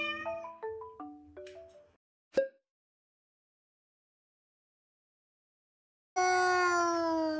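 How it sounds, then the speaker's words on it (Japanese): Recorded cat meows played back, a few short stepped calls with a brief sharp sound early on, then silence, then one long sustained loud meow near the end. "猫たちの鳴き声を翻訳してみたことがあります"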